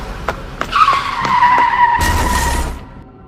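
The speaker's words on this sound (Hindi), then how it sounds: "गुल्ली एक गाड़ी से टकरा जाता है और वहीं गिरकर बेहोश हो जाता है" A cartoon car skids with a loud, wavering tire squeal over its engine, followed by a sudden bright crash-like burst as it strikes a character, then fading.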